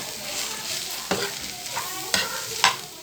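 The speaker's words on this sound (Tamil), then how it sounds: "இது நல்லா கலந்து கொடுத்துட்டு ஒரு ரெண்டு நிமிஷம் கெண்டி விட்டு இறக்கி வச்சுருவோம்" Potato masala is stirred in a hot pan over a soft sizzle, a handful of distinct spoon scrapes and knocks against the pan, close up with no voices.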